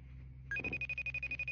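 A phone rings for an incoming call, an electronic tone that starts after a short pause and then pulses in a quick, steady rhythm, close and clear.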